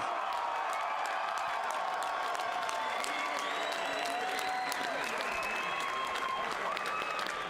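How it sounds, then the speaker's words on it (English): A crowd at a combat fight event applauds both fighters after a three-round bout. The clapping is dense and sustained, with scattered cheers and whistles rising above it throughout. "how about one more round of applause for both these fighters?"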